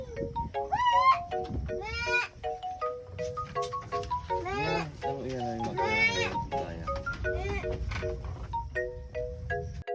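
Goats kept in a clean farm pen bleat repeatedly, several animals calling in overlapping wavering cries at close range, with a few bright metallic dings in between.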